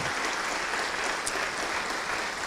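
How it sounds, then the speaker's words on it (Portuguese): A church congregation applauds at a worship service, steady dense clapping holding at an even level for the whole stretch with no voices over it. "Vamos aplaudir ao Senhor Jesus."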